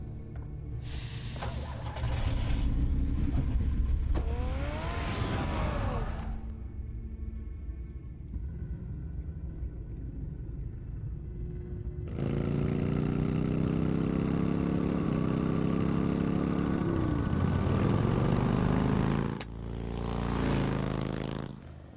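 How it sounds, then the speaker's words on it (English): A car engine starts and revs in the Batman Telltale video game, rising to a loud throaty roar, settling into a quieter idle, then revving hard again in long surges with no talk. "Get the car ready, Alfred."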